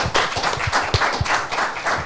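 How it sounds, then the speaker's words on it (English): A short burst of applause for the crew at the Korn Ferry Tour's AdventHealth Championship 2023, with quick, fairly loud claps from a small group, no voices. "Big round of applause for the crew."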